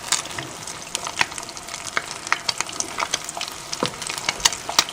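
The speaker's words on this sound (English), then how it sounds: "you want to hear that nice sizzle right away when you put them in" Chesapeake Bay style crab cakes sizzling as they fry in hot vegetable oil, a steady crackling hiss with frequent sharp pops and spits, close and moderately loud, no talking.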